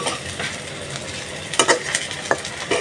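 Vegetables frying in a pan until reddish, a close steady sizzle with a few sharper pops and light utensil clinks near the end, no voices.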